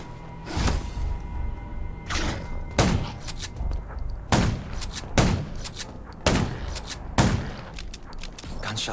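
Sharp gunshots in the video game Undawn ring out at irregular intervals, about eight loud blasts spaced a second or so apart, with some quicker pairs, while fighting zombies.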